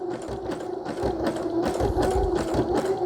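A sewing machine stitches through a pillow case for a junk journal, running steadily at a moderate, even pace with rhythmic needle clatter, close and fairly loud with no talk.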